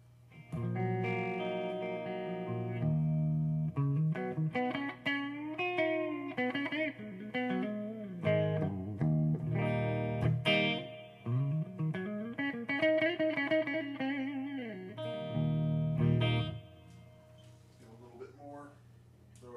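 Electric guitar through a Crate Blue Voodoo 120H amp, channel 1, both pickups, playing sustained chords and melodic runs, washed in reverb that lets notes ring and trail off, steady and fairly loud throughout.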